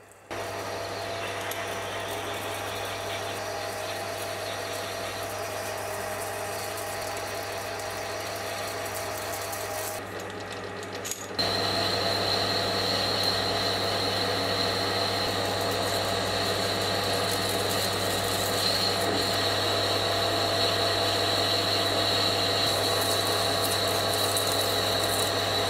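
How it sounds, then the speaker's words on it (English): A metal lathe drills, end mills and bores a lens adapter, giving a continuous mechanical whir and grinding hum with a steady low drone, briefly dropping near the middle before resuming slightly louder. "So I'll start off with a drill, and then follow it up with an end mill, and then bore it to 35mm."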